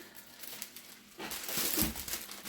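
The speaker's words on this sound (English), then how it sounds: "You're simply going to stretch out a nice long piece cellophane" Cellophane crinkles and crackles as it is stretched out, a quiet rustle at first, then a louder, dense burst of crumpling in the second half, close up with no talking.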